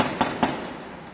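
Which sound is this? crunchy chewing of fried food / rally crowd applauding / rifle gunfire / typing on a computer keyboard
rifle gunfire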